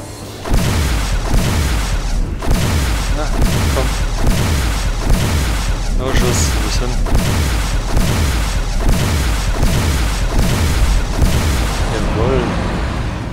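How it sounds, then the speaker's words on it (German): Heavy booming weapon fire in the space game X Rebirth, a steady run of deep rhythmic blasts about every second, loud and continuous with a voice talking over it. "hier waren es zwei Schüsse."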